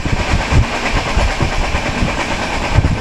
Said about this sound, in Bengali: ট্রেন হুইসেল বাজিয়ে ছুটল হলদিবাড়ির উদ্দেশ্যে